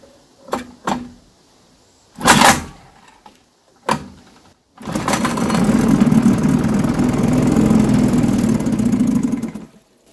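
A 1948 Elgin two-stroke outboard motor makes a few short, loud pops and sputters, then catches and runs steadily and loudly at close range for about five seconds before cutting off abruptly.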